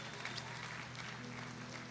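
An audience at a Toyota Star Maker grand final claps for the backing band, a dense steady applause at moderate distance, alone.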